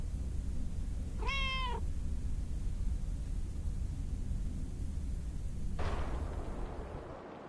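A single drawn-out cat meow in the video game Lake, close and clear over a steady background hiss, followed later by a sudden noisy burst.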